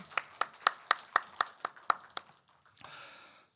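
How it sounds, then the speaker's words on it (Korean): Rhythmic unison clapping from a church congregation at a Sunday service: about ten sharp, evenly spaced claps in a row, then a brief softer patter of scattered applause that fades out. "우리 다시 한번 축복의 박수 하십시다"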